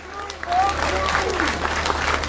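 A crowd at a political rally in Gyumri claps continuously, a dense spread of applause filling the scene while someone speaks over it through a loudspeaker.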